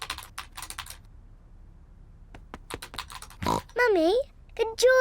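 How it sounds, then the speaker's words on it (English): Quick clusters of key clicks from Mummy Pig typing on a computer keyboard in a Peppa Pig cartoon, followed by short animated voices and pig-like grunts. "Peppa and George love to watch Mummy work on the computer"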